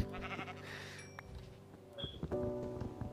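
A sheep bleats in the Minecraft FTB Departed modpack, a couple of short wavering game bleats over faint background noise, with a small clicky tone partway through.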